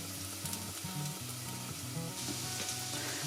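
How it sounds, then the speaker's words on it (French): Cumin, coriander and other whole spices fry in hot oil with a continuous crackling sizzle, steady and close, with no voices. "Je fais frire en même temps les épices, donc je mets l'équivalent d'une cuillère à café de cumin, une cuillère à café de coriandre"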